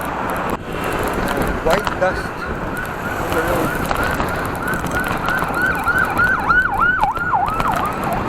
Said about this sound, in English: That is our first ambulance.